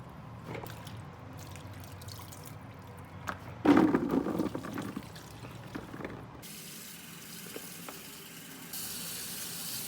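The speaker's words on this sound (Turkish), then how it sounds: "Bamyaları bol suyun içinde yıkadım. Böyle elimle biraz karıştırıp süzgece alıyorum." Okra being washed by hand in a bowl of water, with splashing and swishing that swells briefly in the middle, amid steady background room noise and a faint running-water hiss toward the end.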